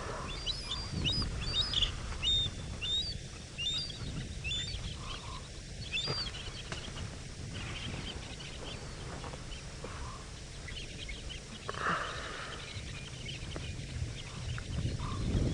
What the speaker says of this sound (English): All these nocturnal birds are getting very active.